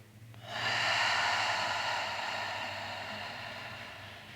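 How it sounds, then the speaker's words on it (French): Slow, steady breathing through the nose during a yin yoga twist, one long audible airy breath that swells quickly and then fades gradually, close and alone over faint background hum. "Encore quelques respirations ici dans ta torsion."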